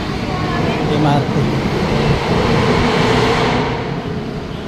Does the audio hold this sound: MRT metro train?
yes